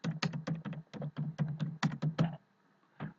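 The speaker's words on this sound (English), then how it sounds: "all I'm doing is just typing it." Rapid, uneven keystrokes on a computer keyboard while composing an email, a dense burst of clicks for about two and a half seconds, then a short pause and one final tap, heard close and alone.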